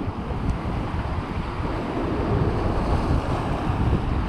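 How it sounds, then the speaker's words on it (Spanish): Ocean surf breaks along the rocky shore of Costa da Morte at dawn, a continuous rumbling wash of waves mixed with wind noise, close and fairly loud. "aquí está rompiendo el oleaje, que da gusto"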